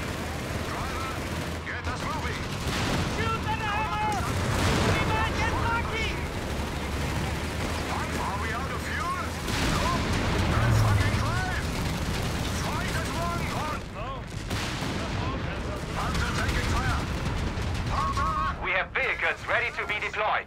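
Enemy infantry gunfire and artillery blasts from Company of Heroes 3 crackle and boom repeatedly, loud and dense throughout, while game voices shout over the battle.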